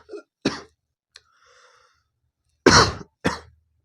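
Several sharp, close coughs in separate bursts with short pauses, the last two louder and harsher than the first ones.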